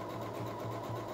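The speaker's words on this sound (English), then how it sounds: "I'm gonna do another zigzag stitch along this unfinished edge" Sewing machine stitching a zigzag along an unfinished fabric edge, a close, steady whirring hum with a regular pulsing beat, running alone without voices.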